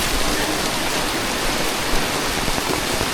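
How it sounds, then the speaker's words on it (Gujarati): Heavy rain pours steadily at the Pavagadh Mahakali temple, a dense, even hiss that runs unbroken and loud with no voices. "વરસાદ કારો કોપ છે ભાઈ."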